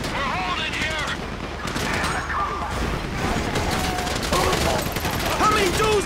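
Dense, continuous gunfire in Grand Theft Auto 5, a loud fusillade of overlapping shots with no pauses, mixed with excited shouting voices throughout.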